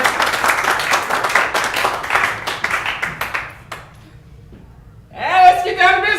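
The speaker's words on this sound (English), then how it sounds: "Let's just all give a round of applause for Hammond surviving another heart attack." An audience gives a loud round of clapping that thins and stops after about four seconds, followed by a quiet pause before a voice starts speaking.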